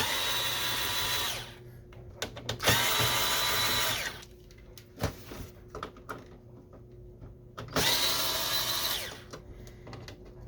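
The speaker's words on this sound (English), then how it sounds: "I'm now going to remove the screws that we see here." A power screwdriver drives screws out of a Canon Pixma TR8520 printer during disassembly, with three long whirring bursts at close range and clicks and handling knocks of plastic parts in the pauses between them.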